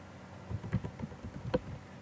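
Quiet, close typing on a computer keyboard while writing Ruby code, a handful of soft uneven key clicks with no talking.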